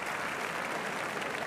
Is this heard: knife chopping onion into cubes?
no